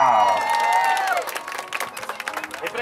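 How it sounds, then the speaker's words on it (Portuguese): Applause and cheering from a crowd of guests at a daughter's birthday party in Cidade Tiradentes, rising out of a spoken announcement into a busy patter of many hands that carries on to the end. "Uma salva de palmas!"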